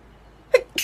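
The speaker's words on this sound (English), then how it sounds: "So I need to sneeze." A single person sneezes up close, a sharp burst preceded by a brief catch of breath, loud and short against a quiet room.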